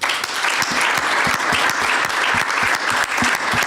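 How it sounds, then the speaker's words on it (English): A lecture audience applauds Andrew Rowan with sustained, full clapping, many individual hand strikes standing out within a loud, steady roar from start to finish. "a big hand of applause for Andrew Rowan"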